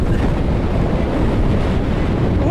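A blizzard in the taiga forest: loud, continuous wind roar buffets the microphone while walking, a dense low rumbling rush with no pauses and no voices.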